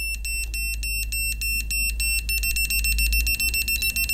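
Laser level receiver from a 16-line Clubiona 4D laser level giving a steady run of rapid, evenly pulsed high electronic beeps as it picks up the beam, loud and close with no talk over it.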